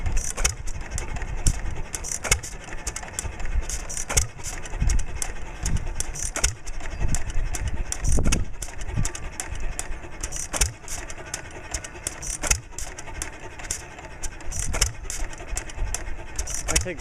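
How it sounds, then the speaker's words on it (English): A small flywheel engine running with its cap off, giving a steady mechanical chug with sharp, evenly spaced clicks or pops about every second, close up and fairly loud, no voices. "Take the cap off so you can just hear the engine running."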